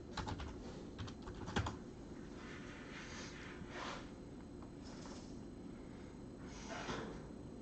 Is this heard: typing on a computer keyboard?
yes